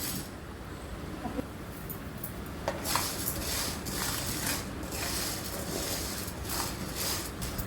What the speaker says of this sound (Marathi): आता आपण साबुदाणे थोडे गरम करून घेऊ